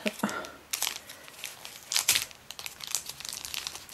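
Soap packaging being opened one-handed, with bursts of close crinkling and tearing plastic at irregular intervals and faint movement noise between them.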